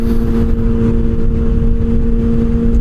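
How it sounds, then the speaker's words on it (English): Motorcycle engine running and revving close by, a loud continuous drone with a steady hum and rough low rumble that holds for a few seconds. "that bike sounds so good"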